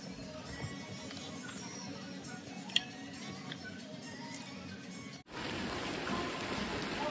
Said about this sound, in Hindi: और बारिश भी तेज होगी